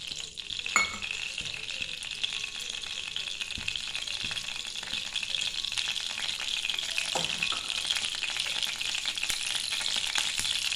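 Four spoons of cooking oil sizzle in a pan as bitter gourd gojju begins, a steady close hiss with a couple of brief metallic clatters.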